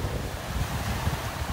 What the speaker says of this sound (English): I'm going to be walking right into the wind here on the way back.